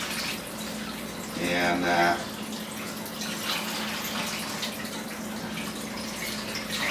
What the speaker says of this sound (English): Wash these tomatoes down,